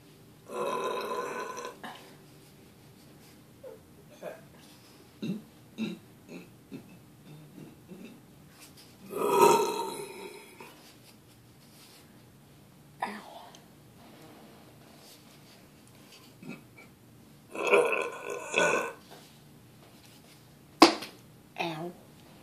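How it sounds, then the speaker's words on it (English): Several short bursts of burping from one person indoors, spaced out across a quiet stretch with small clicks and taps between them, with louder belches near the middle and toward the end. "It's hard to get good burps out."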